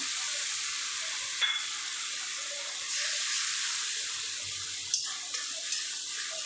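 Water splashed into spiced fish coated with turmeric and Kashmiri chilli in a hot pan, giving a steady close hiss and sizzle with a few light stirring clinks, no voices.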